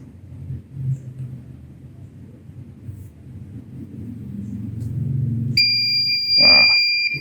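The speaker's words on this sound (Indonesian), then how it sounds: "buzzernya akan menyala" An Arduino buzzer on a clothesline detector goes off when its water sensor gets wet: low rumbling handling noise gives way to a loud, steady, piercing electronic beep near the end.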